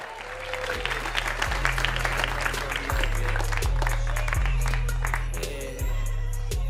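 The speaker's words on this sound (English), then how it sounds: "please clap it up for our Bay Area experts" A studio audience at a live Bay Area storytelling show claps steadily and fairly loud for the guest experts, the applause sustained over a low droning hum that shifts in steps.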